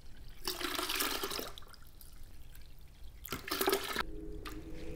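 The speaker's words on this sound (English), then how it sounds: "So let's add some water." Water is poured into a pitcher of homemade kiwi lemonade in two splashing, gurgling bursts over a steady watery background. No one speaks.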